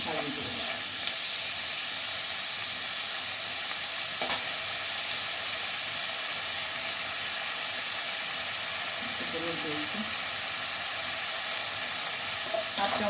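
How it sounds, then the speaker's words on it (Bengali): Small chopped pieces of eggplant fry in hot oil in a pan, giving a loud, close, continuous sizzle and hiss that holds steady throughout, with an occasional faint clink and no talking. "ছোটো ছোটো করে বেগুনগুলো তেল দিয়ে একসাথে ভাজিয়ে দেবো।"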